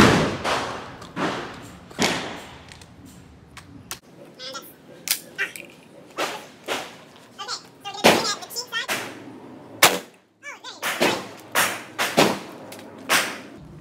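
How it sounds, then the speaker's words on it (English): Shots from a 12 gauge shotgun firing rifled slugs at a DevTac Ronin helmet, a series of sharp loud blasts spaced a second or so apart, with a voice talking between some of them. "So now we're gonna be shooting Kansan with a 12 gauge slug right here."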